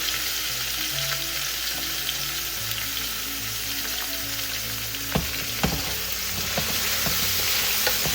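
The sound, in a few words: string beans sautéing in a pan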